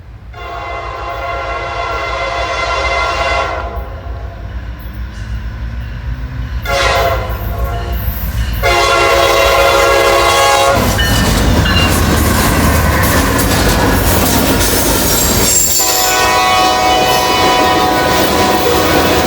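A train rumbles past nearby with loud, sustained horn blasts sounding over the heavy rolling clatter of the cars.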